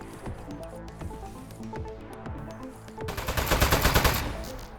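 Gunfire in the video game Aperture Desk Job, a steady run of rapid shots over game sound, swelling into a louder, denser burst near the end.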